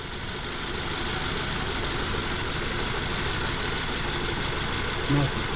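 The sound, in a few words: 2011 Ford Transit Connect engine idling with a faulty number 2 spark plug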